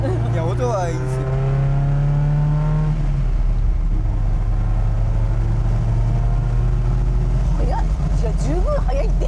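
Close, loud engine note of an Isuzu Bellett 1600GT, revving high at first and then settling into a steady drone, with people chatting throughout.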